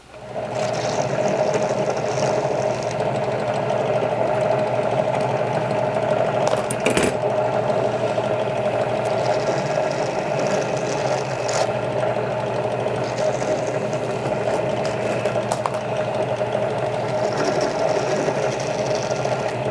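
A small electric rifle brass case trimmer on a Dillon XL650 whirs steadily for about twenty seconds, a close mechanical drone with a short clatter partway through.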